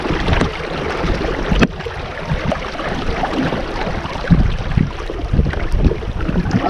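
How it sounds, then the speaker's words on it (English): Strong wind buffeting the microphone aboard a sailboat during the Musket Cove Regatta, a loud steady rushing roar with gusty surges and faint water splashing underneath, no talking. "I'm getting some wind."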